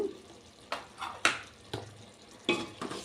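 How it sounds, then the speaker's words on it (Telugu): Sambar vegetables coated with chilli powder and green and dried chillies being stirred slowly in a pot, several distinct scraping strokes of a spoon against metal over a light sizzle. "ఇలా ఇప్పుడన్నీ చక్కగా ఈ ముక్కలకు పట్టేలాగా మెల్లిగా ఇలా కదుపుకోవాలండి"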